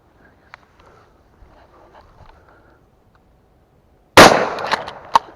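A single loud shotgun blast goes off close by while pheasant hunting in the rain, after several seconds of faint ambient rustle, with a short rattling tail afterward.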